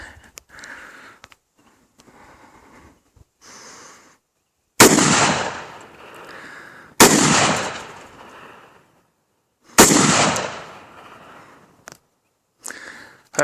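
Rifle shots setting off Tannerite targets in an outdoor shoot: three loud, sharp blasts with booming tails spaced a couple of seconds apart, preceded by quiet rustling and faint handling noises.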